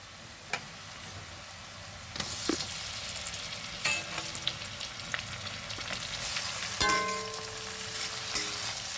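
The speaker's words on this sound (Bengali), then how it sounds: "এবার আমি টমেটোটা ভেজে নেবো এর সাথে" Chopped tomato frying with browned onions in a pan, a soft continuous sizzle that swells as the tomato goes in, with occasional spatula clicks against the pan.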